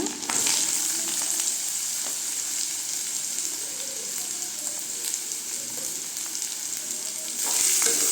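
Garlic and raw mango frying in oil for a mango and garlic pickle, a steady close hiss of sizzling that runs throughout with light stirring and a louder burst at the end, no voices.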